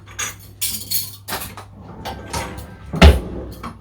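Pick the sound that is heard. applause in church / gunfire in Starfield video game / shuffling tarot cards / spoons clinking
spoons clinking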